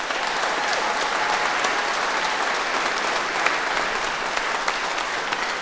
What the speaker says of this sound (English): can we give a round of applause for these wonderful students?